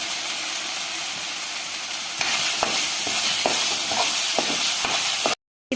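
Tomatoes sauté with salt and turmeric in a pan for chicken chops, giving a steady close sizzle and hiss with scattered clicks of stirring, then a sudden cut to silence near the end.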